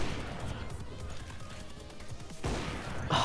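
AWP sniper rifle no-scope shots in the game CS:GO: two sudden, loud blasts near the end, spaced well under a second apart, after a stretch of low game noise.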